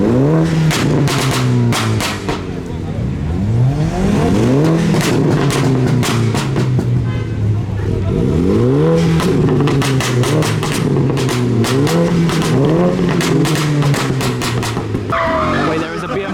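Modified cars leaving a car show, engines revving hard and accelerating past in repeated loud sweeps with tire squeal and skidding, close by, with occasional voices mixed in.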